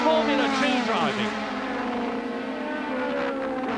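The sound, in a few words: Formula 2 race cars at Silverstone 1984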